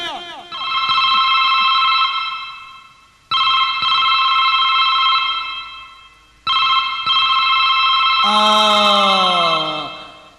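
A telephone rings in repeated long electronic bursts, three rings with short gaps between them, loud and close, as a husband calls home from his office. A voice briefly starts speaking near the end.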